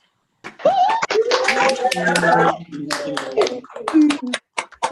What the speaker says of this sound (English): please give all of our awardees today the biggest round of Zoom applause